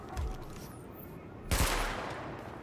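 Weapon fire in the video game The Division, two short bursts of muffled gunshots with a rumbling tail, the second louder, over game background noise.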